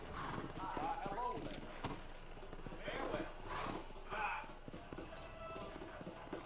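Horse hooves clip-clopping steadily in the Western video game Red Dead Redemption, a close rhythmic trot with occasional snorts, running under game ambience and talk.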